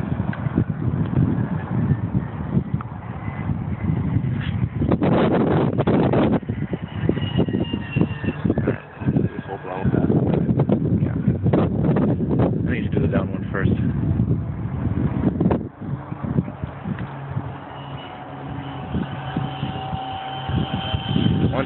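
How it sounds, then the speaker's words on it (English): Steady wind buffeting a microphone at an RC jet flying field during a 12-15 mph headwind, a continuous loud low rumble with gusts throughout, with occasional talk mixed in. "Into the wind, about 12-15 mile per hour headwind."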